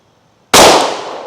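A single sharp, loud gunshot from a Glock 43X pistol on a shooting range, cracking suddenly after quiet and ringing out in a fading decay.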